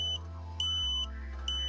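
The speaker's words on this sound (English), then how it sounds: "ensuring that you hear the lock tone at all times" A satellite antenna pointing tool gives a steady lock tone: a high electronic beep pulsing at regular intervals over a constant low hum, close and clear, during installation of a Tooway satellite dish.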